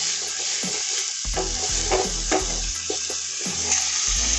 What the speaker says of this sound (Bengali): লঙ্কার গুঁড়ো, চিনি, ভালো করে মিশিয়ে নিচ্ছি